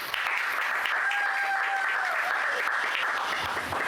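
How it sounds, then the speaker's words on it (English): An audience at a comedy show claps steadily for a few seconds, a dense wash of applause that holds at an even level throughout, with no talking over it. "Let's give her a round of applause."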